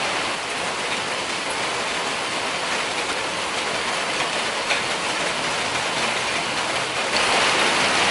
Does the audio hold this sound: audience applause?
no